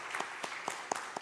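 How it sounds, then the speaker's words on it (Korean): A few scattered, separate claps ring out in a church sanctuary during a Sunday service, quiet and sparse, as the congregation welcomes a visiting member. "한번 박수를 부탁드립니다"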